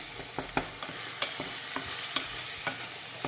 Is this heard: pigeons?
no